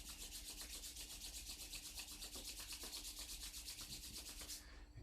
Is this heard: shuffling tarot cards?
no